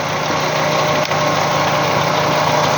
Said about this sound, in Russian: Появился какой-то посторонний шум в моторе.